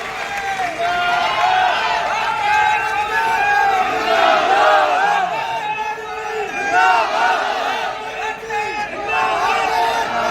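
A large crowd at an outdoor political protest rally roars with cheering and applause, a dense, loud, continuous wash of voices and clapping that swells and dips over several seconds.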